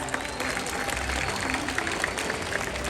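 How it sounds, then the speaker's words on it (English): A large stadium crowd applauds at a SeaWorld San Diego orca show, clapping in a continuous, even wash with scattered louder claps, while a voice can be heard faintly beneath. "let's go ahead and give our whales and our behaviorists another big round of applause"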